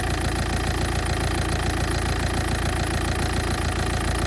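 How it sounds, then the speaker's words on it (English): A Skoda Fabia engine idles steadily with a rapid knocking rumble and a faint high whine from a failing alternator bearing, heard close and continuous with no talk. "I suspect that the alternator bearing has gone as well."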